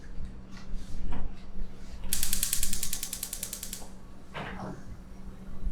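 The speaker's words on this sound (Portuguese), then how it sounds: "Aí primeiro vou ligar o forno." An oven knob turned to switch on the oven in a home kitchen, giving a quick run of sharp ratcheting clicks that lasts under two seconds, close and distinct over quiet room tone.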